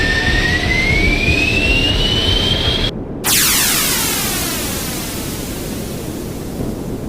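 A steady, loud spacecraft engine roar fills the scene, a broad rushing thrust noise with a rising whine, briefly cut out before surging back and slowly easing.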